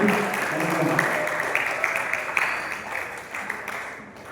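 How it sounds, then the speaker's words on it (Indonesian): Audience at an event applauds after a regent's speech, moderate scattered clapping heard fairly far off under a murmur of voices, slowly fading. "Beri tepuk tangan yang meriah oleh penyampaian dari Ibu Bupati."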